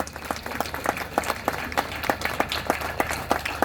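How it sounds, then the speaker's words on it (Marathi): An audience claps for guests at a gathering, a rhythmic burst of applause with evenly spaced, fairly close claps throughout. "सर्वप्रथम चांगल्या टाळ्या वाजवा"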